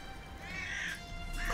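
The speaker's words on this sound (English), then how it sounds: "Robotic crows." Crows caw in The Witcher video game, a single short hoarse call rising over a steady ambient background.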